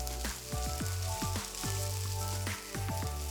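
Ginger garlic paste frying in a pan for Mumbai street-food pav bhaji, a steady close sizzle with crackling, overlaid by clanking bursts of a spatula stirring against the metal pan in an uneven rhythm; no talking.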